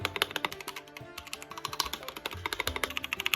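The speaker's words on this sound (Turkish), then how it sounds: "Yani mini boy güzel bir mekanik klavye arkadaşlar. Sesini de dinletelim." GamePower Lyra mini mechanical keyboard with red switches being typed on, a quick run of crisp, close keystrokes with short irregular bursts and brief pauses, no voices.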